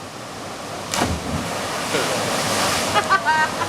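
Steady broadband rush of a waterfall in Honduras fills the scene, with a louder burst near the start and faint chirpy sounds near the end.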